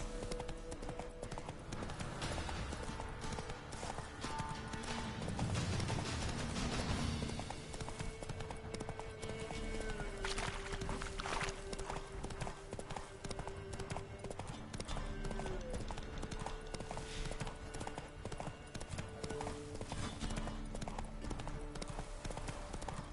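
Roach the horse's hooves clop steadily through a long stretch of The Witcher 3 video game, a continuous galloping rhythm under music and ambient game sound.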